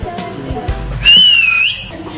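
A human voice imitates a whistle in a comedy scene, one clear rising-then-level whistled tone lasting about half a second, close and fairly loud, after brief talk and background noise.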